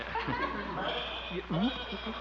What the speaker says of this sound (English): Oh, that's just Arthur, my goat.